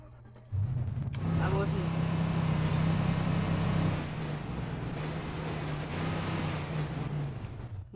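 Vehicle in Arma 3 starting up and driving, a low, steady engine hum that kicks in abruptly and holds at close range, with someone talking over it.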